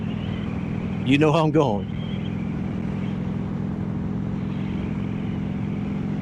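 Indian Scout motorcycle cruising on the road, a steady low engine drone and wind rumble running throughout while someone speaks briefly over it.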